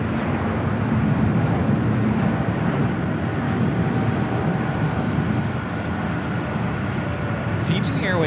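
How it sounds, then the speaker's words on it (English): A Fiji Airways Airbus A350-900 takes off from LAX, its engines giving a loud, steady, broad roar that holds throughout while people talk nearby. "Fiji Airways Flight 811 taking off to Nandi on the A350-900."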